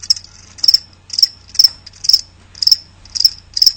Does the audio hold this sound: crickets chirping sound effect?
yes